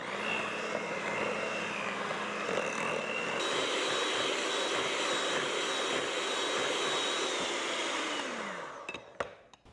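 An electric mixer whirs steadily through a pumpkin cheesecake bar filling, a loud continuous motor drone that shifts pitch partway and winds down near the end, followed by a few clattering knocks.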